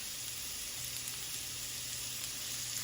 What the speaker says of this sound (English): We just wanted them to sweat a little bit so they're not raw.